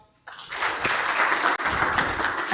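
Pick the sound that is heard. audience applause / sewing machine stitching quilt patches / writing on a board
audience applause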